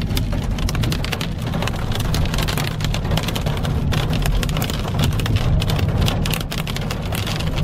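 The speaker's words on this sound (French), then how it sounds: "Ah, il y a un peu de la grêle là. La petite grêle." Dense, steady pattering of small hail striking surfaces during a thunderstorm, with a continuous low rumble underneath and no voices.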